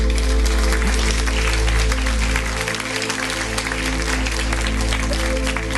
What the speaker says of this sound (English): Big applause for the panel.